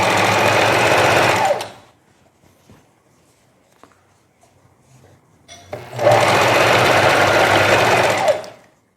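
A domestic sewing machine stitching knit coat fabric runs in two steady, loud bursts of rapid needle clatter, separated by a quiet gap with small handling clicks and fabric shuffling.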